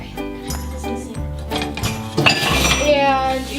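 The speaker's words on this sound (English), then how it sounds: "you're going to stir it constantly about 10 minutes until it thickens" A spoon stirs lemon curd in a pot over low heat, clinking against the metal in a steady, close rhythm, with a voice talking over it.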